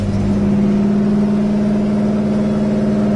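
A 1967 Pontiac GTO on the road, its engine giving a steady, loud low drone with a rumbling pulse as the car drives along, heard up close from inside with no talk.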